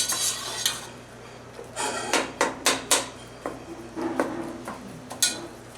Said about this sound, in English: You want to chop up the sausage into pieces so that it's not like huge chunks.